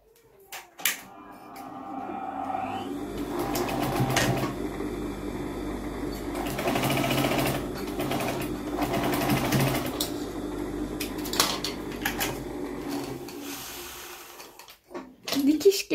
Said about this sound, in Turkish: buradan düz bir dikiş geçeceğim.